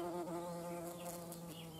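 A large queen bumblebee buzzes steadily and close among hardy geranium flowers, a continuous low drone with no voices, faint overall.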